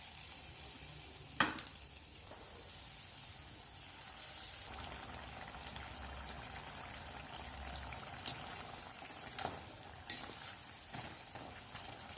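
Madurai kara bonda batter deep-frying in hot oil, a steady low sizzle and bubbling running throughout at a moderate, fairly quiet level, with a few sharp clinks and taps of a utensil scattered across it.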